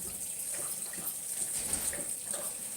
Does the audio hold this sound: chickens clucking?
no